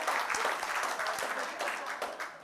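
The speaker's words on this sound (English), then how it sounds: "I don't know why you're clapping, really." An audience claps at a talk on a sustainable future, a moderate patter of hands with a few sharper individual claps standing out through the short burst.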